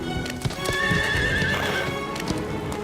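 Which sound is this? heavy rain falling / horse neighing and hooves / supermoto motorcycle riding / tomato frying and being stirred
horse neighing and hooves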